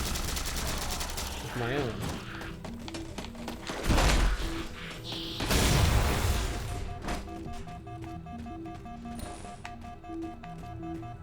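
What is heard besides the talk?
gunfire and grenade explosions in video game Halo 4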